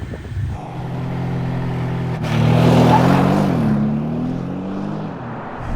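Bentley Continental GT V8 hybrid driving on a track near Barcelona, a steady engine drone that swells louder as it accelerates and then eases off, with no talk.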